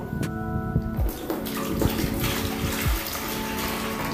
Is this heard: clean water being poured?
yes